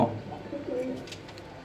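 A domestic pigeon coos in low, soft repeated notes close by, with a faint higher chirp partway through.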